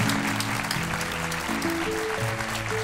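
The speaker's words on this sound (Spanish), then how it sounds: "yo les pido un aplauso para ellos también" Sustained audience applause in a Spanish television show studio, steady and fairly full, with a harmonic musical tone running underneath.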